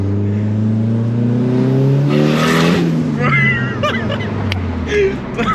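A Nissan S15 engine revs hard from inside the car, the exhaust note climbing and falling in loud harmonic sweeps, with occupants talking over it.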